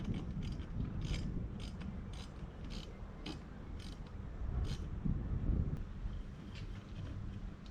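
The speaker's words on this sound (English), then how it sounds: "I've just got a Allen key and my little 1/4 inch socket set, and that's working really good to tighten it up." A 1/4 inch socket ratchet clicks in quick, repeated bursts while tightening roof rack bars on a Mitsubishi Triton, the light metallic ratcheting close but quiet over a breezy outdoor background.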